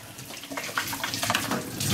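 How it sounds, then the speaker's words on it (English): Tap water runs into a sink during handwashing, a soft, fairly quiet splashing stream that rises slightly toward the end. "Maybe we go wash our hands"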